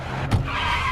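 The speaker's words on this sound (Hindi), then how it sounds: "पुलिस का ध्यान भटकाने के लिए वो गाड़ी तेज चलाता है" A car driven fast in a scene from the 2007 thriller The Invasion, its steady engine and road roar broken by a short, sharp skid partway through, with no voices over it.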